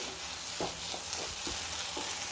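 A potato-onion masala curry with added egg is stirred in a pan, giving a steady background sizzle and hiss broken by soft, regular scraping thuds of the spoon.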